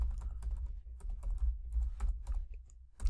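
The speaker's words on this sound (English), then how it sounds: "So I'll just type that back in." Fingers tapping steadily on a computer keyboard while entering a search phrase into a web browser, the keystrokes coming in quick irregular bursts with short pauses, close and fairly quiet with no one speaking.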